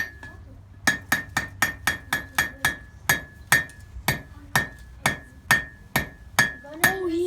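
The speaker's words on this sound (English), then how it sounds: "We take our hammer here." Hammer striking hot metal while forging a weapon by hand, a steady run of about fifteen sharp ringing blows close by, evenly paced with a brief pause midway, a faint voice near the end.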